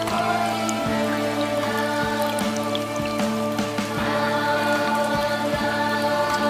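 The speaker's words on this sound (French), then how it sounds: "Il pleut au Japon en tout cas." Steady patter of rain with distinct drips, layered over a sustained tonal music bed that continues throughout, from the video game Silent Hill f.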